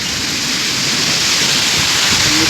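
Heavy monsoon rain pouring down during the first rain of the season, a loud, dense, continuous hiss of falling water with no pauses or talking.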